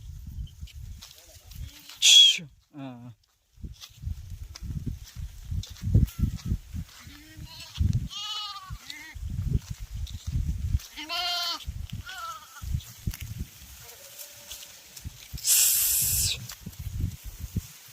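Sheep bleat several times in a rural pasture during a time of scarce grass and water, with other loud animal cries and harsh hissing bursts, all heard under ongoing talk nearby.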